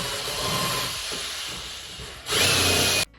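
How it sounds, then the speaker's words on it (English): A power drill fitted with the wrong bit whirs steadily as it enlarges holes, then surges into a louder, harsher grinding burst near the end before cutting off abruptly. "So I tried to, with the drill head I tried to make the holes bigger."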